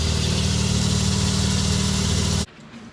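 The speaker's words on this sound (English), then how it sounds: "We are running the car." A Mazda RX7 engine runs steadily on a hoist, a loud, even mechanical drone that holds for over two seconds and then cuts off abruptly, leaving a quiet, low-level background.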